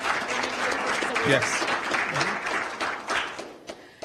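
An audience at an Urban League annual meeting applauding warmly for a few seconds, with a voice speaking briefly over the clapping.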